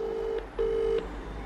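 A phone line gives two steady ringback tones in a row while a call is placed, with a low background hum beneath and no talk.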